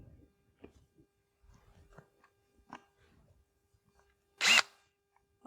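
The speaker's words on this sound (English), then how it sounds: "Next thing we're going to do is pull out these two screws that are holding in this bottom" A power drill backs out screws from the bottom panel of a vehicle's brake light assembly. Soft handling clicks and taps come first, then one short, loud, close whir of the drill near the end.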